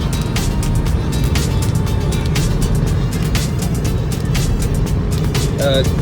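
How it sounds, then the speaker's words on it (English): Car engine running on an E85 and regular fuel blend with Eflexfuel flex-fuel technology, a steady, smooth idle-like rumble that stays loud and even throughout, with faint broadband noise on top. "the car's chugging along perfectly fine"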